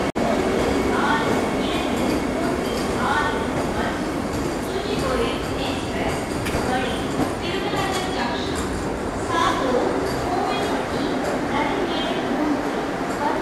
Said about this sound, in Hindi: यहाँ पर आप देख सकते हैं तिरुवनेली चेन्नई वंदे भारत डिपार्ट हो रही है यहाँ से